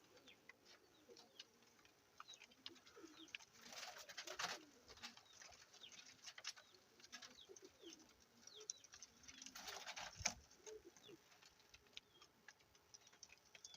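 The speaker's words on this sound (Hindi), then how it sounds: "डब वाले कबूतर।" Soft dove-breed pigeon coos come and go at low volume, with faint ticking and a couple of brief rustling bursts in a quiet setting.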